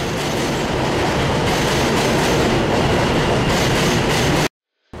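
A Metro North commuter train rumbles steadily with rolling wheel clatter and track noise, loud and continuous, cutting off abruptly near the end.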